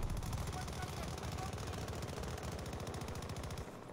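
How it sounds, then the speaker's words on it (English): Rapid automatic gunfire in Battlefield 2042, loud and continuous bursts of closely spaced shots running nearly the whole time before cutting off at the end. "Guy above shooting at you!"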